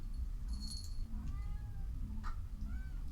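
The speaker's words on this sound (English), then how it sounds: "Cat, come on, dude." Cat meowing in the video game Mass Effect Legendary Edition, a few short rising and falling meows over a steady low background hum, fairly close and without talk.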